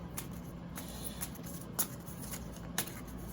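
Tarot cards being shuffled in a steady riffling rhythm, with a few sharper snaps as the deck is bridged, close and fairly quiet.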